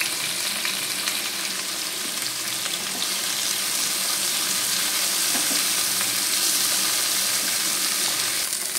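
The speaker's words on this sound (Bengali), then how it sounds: "আর এবার এই ডিম ভাজার তেলের মধ্যেই দিয়ে দিয়েছি ডাঁটাগুলোকে।" Vegetable stems fry in oil left over from frying eggs, a loud, continuous crackling sizzle that holds steady throughout with no voices.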